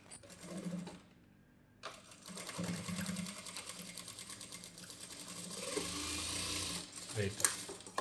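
A sewing machine runs in bursts while stitching a boat neck blouse with stones set along it, a steady mechanical whir with brief pauses, close by, as a person talks quietly over it.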